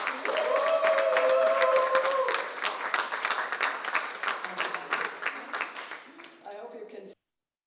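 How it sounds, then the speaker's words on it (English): An audience at a lifetime award event applauds Jane Goodall, a dense burst of clapping that gradually thins out and stops abruptly near the end, with a voice heard over the start. "So applause to the amazing Dr. Jane Goodall."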